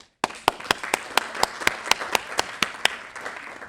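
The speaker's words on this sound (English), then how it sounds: "So please give them a round of applause." Sparse applause at an academic symposium: about a dozen distinct, evenly spaced claps ring out close by, a slow steady rhythm rather than a crowd's roar.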